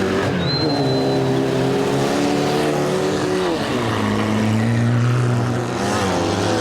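Race cars in a no-rules car race in Yakutsk roar continuously at close range, engines revving and shifting pitch as they accelerate and jostle in a pack.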